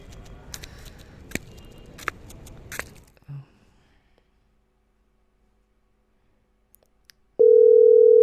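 Faint background rustle and a few sharp clicks fade into near silence, then a loud, steady electronic tone starts abruptly on a mobile phone call that goes unanswered.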